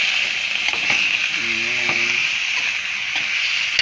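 Chicken pieces sizzling and being stirred in a pot for Filipino tinola, a steady close frying hiss with brief scraping stirs throughout.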